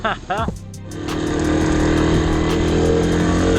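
A Kawasaki KLR 250 dual-sport motorcycle is kick-started, with brief mechanical kicks at first, then the engine catches and settles into a steady, loud, close idle-to-rev rumble, while people talk over it briefly.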